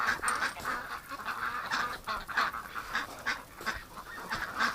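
Wild duck, most likely goose-like in tone, calling in a winter setting outdoors, with repeated honking and quacking calls in an irregular rhythm, fairly near and steady through the whole stretch, no talk.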